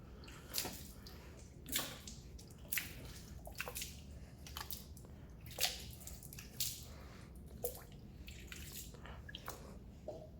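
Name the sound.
water thrown onto a car tire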